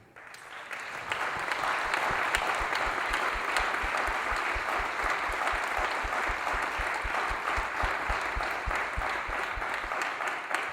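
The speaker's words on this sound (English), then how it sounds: "Can I hear your appreciation and one more round of applause" A large audience at a graduation ceremony applauds steadily, dense clapping that swells in after a brief quiet start and continues strongly throughout.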